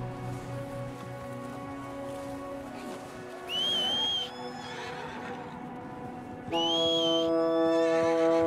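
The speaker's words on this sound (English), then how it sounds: "If you are faced away from your horse when calling it, Arthur will turn into the direction of which it is approaching you over his shoulder." A horse in Red Dead Redemption 2 comes in answer to a call, giving two loud whinnies several seconds apart over a steady backdrop of game music.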